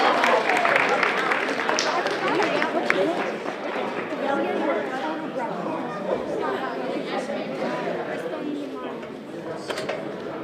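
A scout court of honor audience claps continuously at moderate volume while people chatter through the room.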